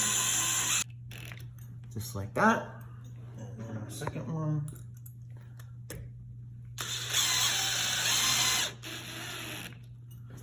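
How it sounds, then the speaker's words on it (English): A drill pre-drilling screw holes in a door for an Emtek privacy door knob, short whirring bursts separated by pauses, close and fairly quiet, with a steady low hum underneath and someone speaking between the bursts. "we're going to pre-drill our holes just nice and straight in"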